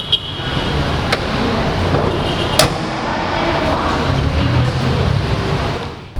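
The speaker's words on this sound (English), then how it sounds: "So yeah, driving the 2019 Kia Forte LX" Steady road and cabin noise from a 2019 Kia Forte LX automatic sedan being driven, a constant rumble with a couple of faint clicks and no talking.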